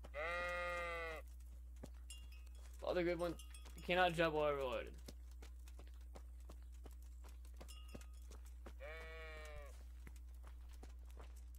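A sheep in Kingdom Come Deliverance bleats several times, with short wavering cries spaced out across a quiet scene. Someone talks briefly in the middle, and faint tapping runs underneath.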